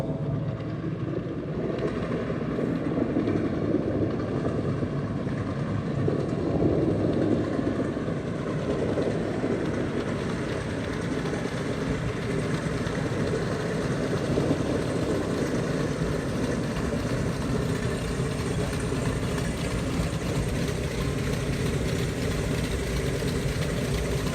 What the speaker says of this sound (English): being that close to those engines running, you really get to feel it